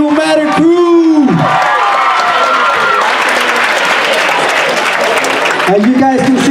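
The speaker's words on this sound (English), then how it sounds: "let's give a round of applause for the Umc crew." A school assembly crowd bursts into loud applause and cheering for a performing crew, with whoops and voices shouting at the start and end.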